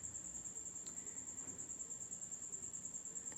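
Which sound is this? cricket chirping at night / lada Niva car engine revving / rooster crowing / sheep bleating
cricket chirping at night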